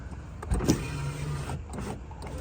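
A click, then a Nissan 350Z power window motor whirs for about a second as the glass lowers after a window regulator replacement, close and moderately loud.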